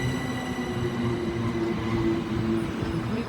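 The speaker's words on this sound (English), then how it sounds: "Also coming in behind me will be a Thameslink service to London Bridge" Thameslink electric multiple unit pulling into Gatwick Airport station on the Brighton Main Line, a steady close rumble of wheels and traction hum with faint rail squeal, continuous and fairly loud with no talk.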